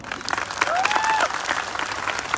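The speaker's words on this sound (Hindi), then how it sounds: "जोरदार तालियां।" Audience applause at a live speech event in Jaipur, steady dense clapping from a crowd sustained throughout, loud and close, with no talking over it.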